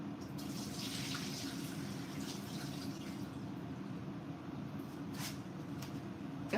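Steady running water pours at a kitchen sink while rice is washed, a faint, continuous stream with light splashes and no talking.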